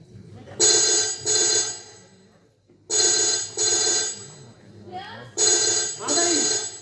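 A telephone bell rings in loud paired bursts, three double rings separated by short pauses, with a person talking faintly between the rings.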